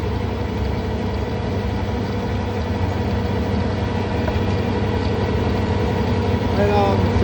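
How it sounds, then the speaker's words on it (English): Snow blower attachment on a farm machine clearing snow, its engine running at full throttle as a loud, steady low drone that fills the whole stretch without letup. "Throttle running wide open."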